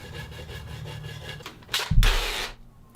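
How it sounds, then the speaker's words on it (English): A brass bristle brush scrubs across a maple wood edge on an epoxy guitar body build, giving two short, fairly loud bursts of bristly rubbing near the end after a quieter stretch. "I'm just using a brass bristle brush to make sure that all the particles are removed, just brushing everything off."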